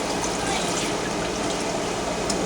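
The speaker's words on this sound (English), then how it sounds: "I'm going to pour this in my saucepan." Mint infusion of spearmint, sweet mint and chocolate mint being poured from a cup into a saucepan, a steady close splashing trickle running continuously for a couple of seconds.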